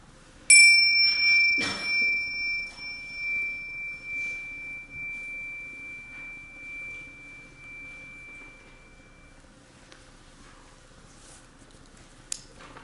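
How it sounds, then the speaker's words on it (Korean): A meditation bell is struck once to open a Buddhist dharma service, its clear ringing tone sustaining and slowly fading over several seconds in a quiet room, followed by a faint second tap near the end. "제가 종을 칠 테니까 종소리 들으시면서 천천히 시작하겠습니다."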